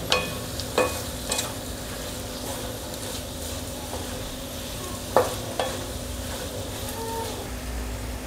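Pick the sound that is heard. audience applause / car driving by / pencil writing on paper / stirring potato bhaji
stirring potato bhaji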